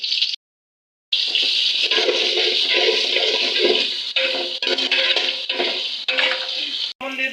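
Onion and chilli frying in hot oil in a pot for meat khichuri, a loud steady sizzle with a short silent gap near the start and stirring clatter.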